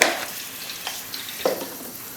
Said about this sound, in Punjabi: ਇੱਥੇ ਮੈਂ 1 ਚਮਚ ਜੀਰੇ ਦਾ ਪਾ ਦਿੰਦਾ